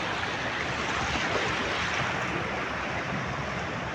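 Ocean surf at a rough beach, a continuous broad wash of waves, moderately faint and steady, with no voices.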